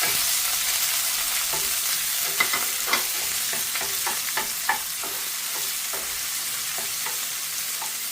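Ginger and garlic sizzle in hot oil with popped mustard seeds while being stirred, with scattered crackles and the clink of a spoon against the pan.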